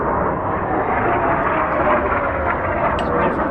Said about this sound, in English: Some different planes about.